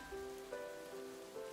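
Soft rain falling in the visual novel game Genso Manege, a faint steady patter under quiet tonal background music.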